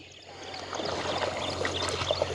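Canal water sloshes and splashes steadily as a calf swims through it in a village setting, a continuous trickling, lapping sound that grows gradually louder, ending in a sharper splash.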